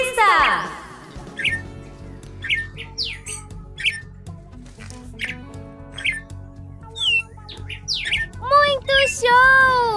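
Several birds call and chirp in turn: sharp rising squawks, quick whistled notes and a burst of warbling song near the end, loud and close against a low background hum.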